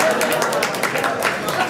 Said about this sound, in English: I'll let her know you give her a round of applause.